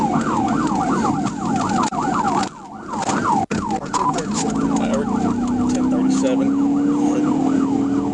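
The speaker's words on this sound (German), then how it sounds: "schalteten sie ihre Sirenen ein und nahmen die Verfolgung auf." Police sirens wail in a rapidly repeating yelp during a motorcycle chase, loud and close over road and engine noise, while a rising engine tone builds toward the end.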